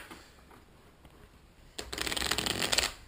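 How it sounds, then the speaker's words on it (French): A deck of playing cards is quickly shuffled close up, a faint quiet pause followed by a dense burst of crisp riffling flutter lasting over a second. "on va juste aller mélanger le paquet vite fait"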